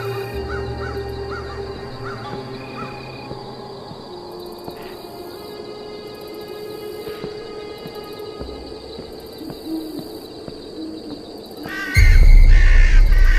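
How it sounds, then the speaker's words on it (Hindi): Crows caw repeatedly in the horror video game Bhangarh, harsh calls over an eerie droning ambience with tonal layers, followed by a loud low rumble toward the end. "ओके ओके, कौवे तो हैं, कौवों से क्या डरना।"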